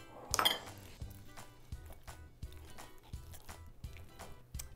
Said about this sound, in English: I'm gonna add the honey. And give it a good mix.